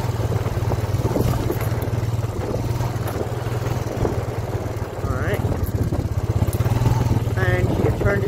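A Honda Foreman 400 ATV churns through a bog at low speed, its engine droning steadily and close throughout while a rider talks over it.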